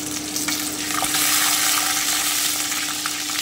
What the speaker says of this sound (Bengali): আমি একটু ভেজে নিচ্ছি। আলুটা হালকা একটু ভেজে